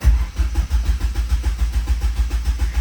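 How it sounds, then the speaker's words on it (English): A Ford Fiesta ST with new AN fuel lines cranks with a rapid rhythmic chugging of the starter, loud and close, and keeps pulsing unevenly as it catches. "so I can just start the car"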